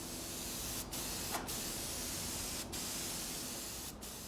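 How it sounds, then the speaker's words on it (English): Another coat of lacquer goes onto a turned wood piece from a spray gun: a continuous close hiss, interrupted by four short gaps as the trigger is released. "Okay, we'll spray another coat."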